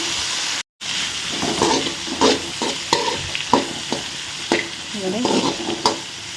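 Eggplant pieces stir-fried in oil in a pan, a steady loud sizzle broken by repeated scraping stir strokes, close and alone with no voices.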